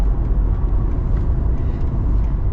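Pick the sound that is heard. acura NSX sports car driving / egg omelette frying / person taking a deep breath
acura NSX sports car driving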